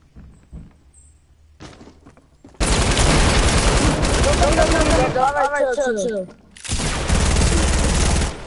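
A light machine gun fires long, loud, rapid bursts in a video game, two sustained volleys separated by a short pause, after a quieter opening with scattered shots.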